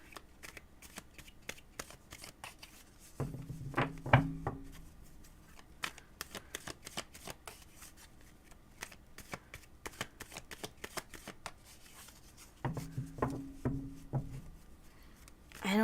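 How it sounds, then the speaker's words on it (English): Two bursts of playing card shuffling, a riffle then a bridge, about ten seconds apart, with quieter handling and tapping in between. "Let me just shuffle these cards."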